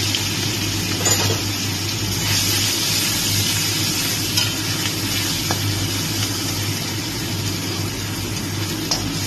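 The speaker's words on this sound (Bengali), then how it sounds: "এই তেলটার মধ্যেই আমি আদা রসুন যেটা কুচিয়ে রেখেছিলাম সেটাকে আমি দিয়ে দিচ্ছি।" Chopped ginger and garlic hit hot oil on a high gas flame for a chilli chicken gravy, giving a steady, dense sizzle of frying with light stirring scrapes and no talking.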